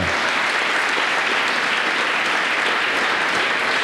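A church congregation applauds to welcome an apostle, a dense, steady wash of many hands clapping at once that fills the room evenly from start to finish, with no voices rising above it.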